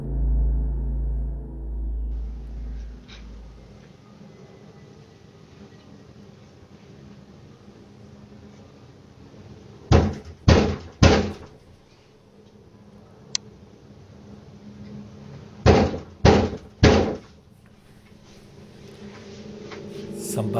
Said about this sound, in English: Somebody's knocking.